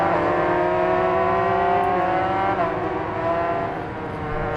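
Motorcycle engine in the racing game Ride 5 pulling hard on the throttle, a steady loud, close whine with rising harmonics that eases slightly near the end.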